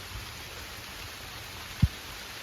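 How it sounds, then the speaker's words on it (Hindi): Steady rain falls outdoors at a nature resort near Chikmagalur, a soft continuous hiss with one brief low thump near the end, no voices. "और यहाँ देखिए बारिश हो रही है भाई."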